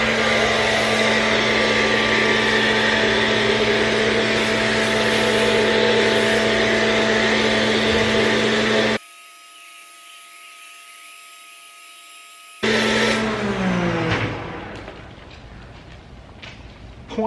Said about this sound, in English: So pressure washer. Make sure that's on.